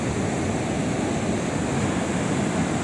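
Ocean surf rolls in steadily with continuous broadband wash and some wind noise, loud and close at the shoreline, with no talking.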